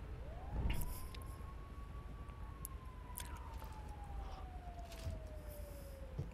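A police siren wails in GTA V, a single rising-then-slowly-falling tone held steadily through the whole stretch over faint game ambience, with no one speaking.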